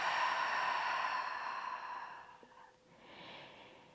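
Slow, deep breaths taken while lying in a relaxed Pilates mat position, a long soft exhale fading out followed by a quieter inhale, close and alone with no talk.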